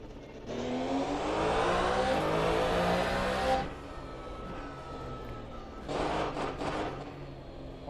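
A race car engine at Zandvoort in the rFactor 2 racing game, a loud sustained whine rising and holding for a few seconds, then dropping to a lower drone before a brief second surge.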